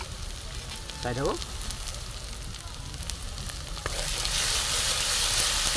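Turmeric, cumin and chili powder fry in a pan of oil for an Assamese fish curry, giving a steady close sizzle that grows louder near the end, with a brief voice in the middle.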